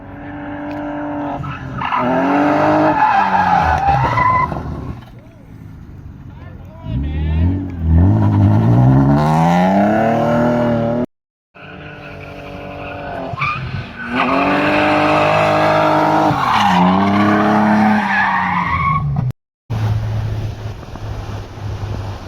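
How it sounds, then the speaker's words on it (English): A Mazda RX-7 FD3S drift car revs hard with wailing tire squeals and skids, the engine note sweeping up and down through long slides. It cuts out briefly twice, and voices can be heard over the noise. "Taking the drift missile to S-turn."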